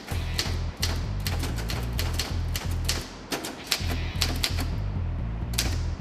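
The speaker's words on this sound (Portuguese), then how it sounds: "Disputa vencida com a máquina de escrever." A typewriter clacks in quick irregular bursts of sharp key strikes, close and steady, with brief pauses between runs.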